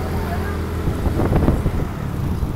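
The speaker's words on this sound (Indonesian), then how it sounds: "Ada truk" A truck rumbles past on a road beside a Suzuki Nex II crossover 2022 scooter, a steady roar of traffic and wind swelling louder mid-pass before easing, with a voice speaking over it.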